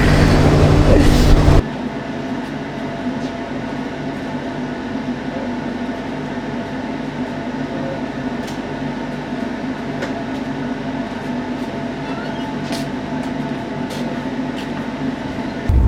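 The Trivandrum Rajdhani Express rolls along the Konkan Railway route, heard from inside as a steady loud rumble with faint periodic wheel clicks, after a brief burst of louder noise at the start.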